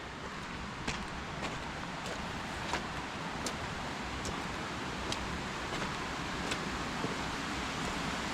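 A loud, fast-flowing creek on an alpine walking track: a steady, dense rush of water fills the whole scene without a break, close by and unchanging, with a few faint clicks over it and no voices.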